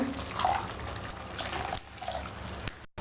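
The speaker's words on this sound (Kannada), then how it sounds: "ಇದಕ್ಕೆ ನಾನು 2 ಕಪ್ ನೀರು ಹಾಕ್ತಾ ಇದ್ದೀನಿ." Water splashes and gurgles as two cups are poured into a pan of fried masala for soya chunks curry, brief and close, with no voices.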